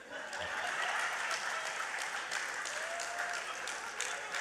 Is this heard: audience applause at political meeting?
yes